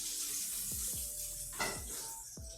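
A duck breast (magret) cooks in a pan on the stove without added oil, rendering its fat into a soft, steady sizzle with a few faint utensil taps.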